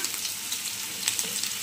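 Onions sizzle and fry in a hot wok for a Bengali chicken kosha, a close, steady crackling hiss with small popping spatters throughout and no talking.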